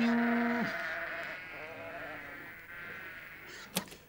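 A real farmyard sheep bleats once, loud and close, with a wavering tone that breaks off after about half a second. A quieter trailing call and a short sharp knock near the end follow.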